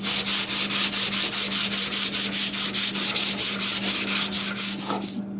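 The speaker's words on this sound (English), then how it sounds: "I'll get some sandpaper and we'll smooth things out" Rhythmic hand sanding of a wooden hobby magnifier stand with sandpaper, roughly twenty steady back-and-forth rasping strokes, close and loud, stopping just before the end.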